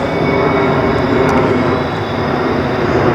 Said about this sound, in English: pardon the background noise and a plane flying over